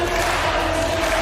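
A stadium crowd at an indoor athletics meet roars for a high jumper, a dense, loud and continuous wash of cheering.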